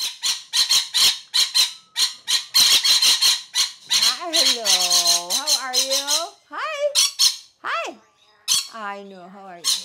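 A bird squawks loudly and close by in rapid, repeated bursts, mixed with shrill rising whistles and screechy calls.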